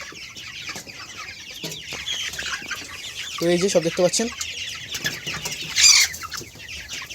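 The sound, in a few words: chickens clucking on a poultry farm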